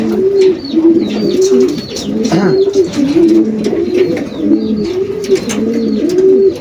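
Young racing pigeons coo steadily in a repeating rhythm while being basketed for a 400+ km race from Pilar, Sorsogon, several birds close by and fairly loud, with faint chirps above.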